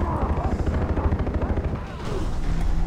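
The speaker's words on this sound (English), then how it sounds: "Machine gun fire!" Rapid machine gun fire in the Far Cry 3 video game, a loud continuous rattling burst with dense repeated shots and a low rumbling backdrop, lasting throughout.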